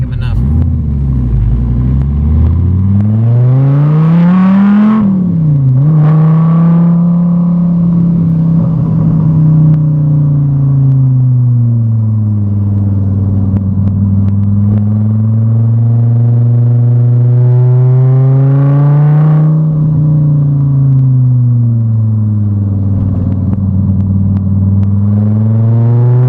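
Gen 5 car accelerating hard around town, its engine revving loudly in long rising and falling sweeps, close and dominant throughout, with talk underneath.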